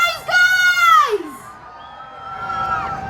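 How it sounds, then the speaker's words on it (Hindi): Crowd of about 5000 people at a Sri Khushal Das University event cheering loudly, with high shouts and whoops rising at the start, then settling into a softer sustained crowd roar. "5000 लोग हैं यहाँ और उनकी तालियों की आवाज"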